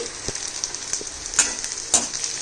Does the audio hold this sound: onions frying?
yes